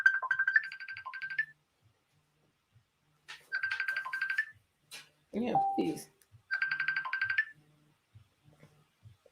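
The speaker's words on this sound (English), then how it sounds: "Why is this still ringing?" Phone ringtone plays in repeated short melodic bursts separated by gaps, loud and close, with a person speaking briefly between the rings.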